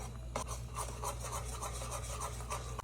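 A hard whisk scraping and swirling through a flour roux as a can of evaporated milk is poured in for mac and cheese, a steady close rasping rub with regular strokes.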